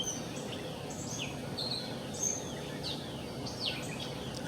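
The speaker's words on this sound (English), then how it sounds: "I hear the birds." Birds sing outdoors at a distance, several thin, high chirps and short descending whistles scattered over a soft background hiss.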